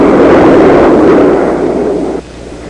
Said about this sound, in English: Arc-light is the code name for these terrifying bombs